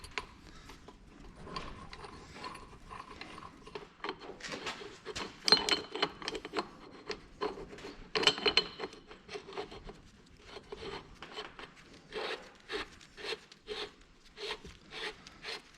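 A threaded part is screwed into the front-wheel-assist axle assembly of an Oliver 1855 tractor under restoration, a faint close series of rubbing, ratcheting metal clicks in uneven bursts.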